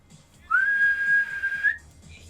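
A person whistles one sustained, steady note for just over a second, loud and close, with a faint room background and no talking.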